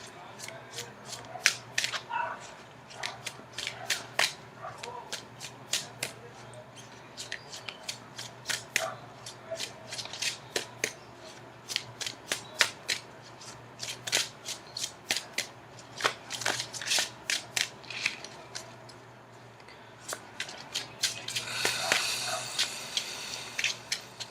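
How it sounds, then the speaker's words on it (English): Tarot cards being shuffled and cut by hand, giving crisp rapid riffling snaps in irregular bursts close up, with a longer rustling shuffle near the end. "I'm going to cut the cards."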